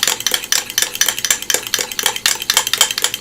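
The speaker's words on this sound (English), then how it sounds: "just make you listen to my fork beating this up" A fork beating homemade mayonnaise in a bowl, rapid steady rhythmic scraping and clicking strokes close up, loud and alone without talk.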